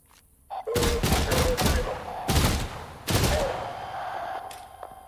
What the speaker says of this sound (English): Sound like a suppressed gun?